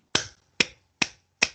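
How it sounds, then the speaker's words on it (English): Four sharp hand claps, evenly spaced about half a second apart, ring out close and crisp with nothing else around them. "I am clapping right now if you didn't know what that sound was."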